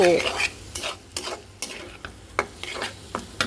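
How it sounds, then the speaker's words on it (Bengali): Noodles seasoned with black pepper being stirred in a frying pan, a spatula scraping in repeated strokes over a low, steady sizzle, close and clear with no talking. "কিছুটা গোলমরিচ দিয়ে এখন ভালো করে নাড়ব"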